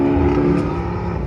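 A BMW F83 and an Audi RS3 pass by outside a cars and coffee meet in Concord, a loud brief engine roar with a steady droning tone, close and without voices.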